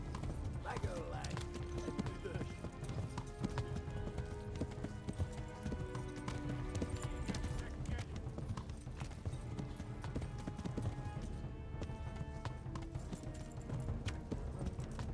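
Horse hooves clip-clop steadily through Kingdom Come: Deliverance, a dense continuous trot beneath game music and ambience, with a voice speaking over it.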